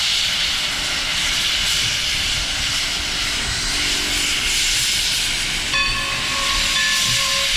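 A loud, steady hiss of steam from a steam train in Hollidaysburg, Pennsylvania fills the air, then a sustained whistle tone enters near the end and holds alongside the hiss.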